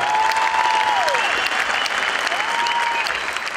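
Sustained audience applause at a televised Uzbek show, steady and dense clapping throughout, with a few faint whistles or tones over the top.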